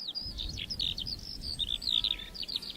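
A skylark sings continuously over upland bogs, a fast run of high, warbling chirps and trills, fairly near, over a low wind rumble with no voices.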